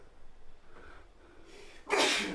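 A single sharp sneeze bursts out near the end after a short intake of breath.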